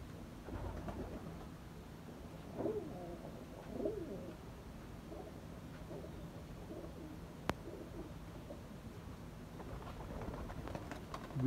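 Pigeons of fancy breeds kept for sale coo softly in a few low, rolling calls amid quiet background noise, with one sharp click partway through.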